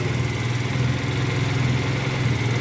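A Viper Sport 80cc motorcycle engine idles steadily after starting on a small weak battery, giving an even, loud, close mechanical drone with no talk.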